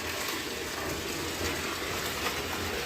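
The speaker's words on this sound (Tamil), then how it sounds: "இது ஆற்று தண்ணி இப்போ ஊற்றிக்கிட்டு இருக்குது" River water pours steadily into a concrete tank on a farm with a borewell, a continuous broadband rushing gush that holds even and close throughout without letup.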